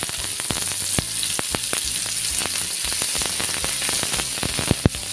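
Finely chopped onion dropped into a pan of hot oil where garlic is already frying, giving a loud, steady close sizzle with scattered crackles and pops, no voices.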